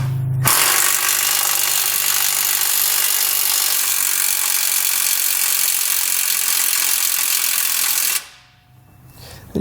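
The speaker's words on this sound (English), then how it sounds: "Now I'm going to come back with a 19mm socket and snug up the flange nuts." A power tool with a 19mm socket spins up flange nuts on a Curt base plate kit fitted to a 2018 Jeep JK Wrangler Unlimited. It makes one loud, steady whir for about eight seconds up close, then stops abruptly.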